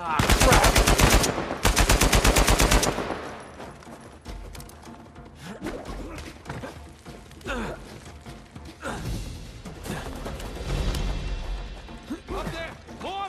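Rapid bursts of automatic fire and sharp sniper shots ring out in a firefight in Uncharted 4, loud at first then scattered and intermittent, with a voice exclaiming over the shooting.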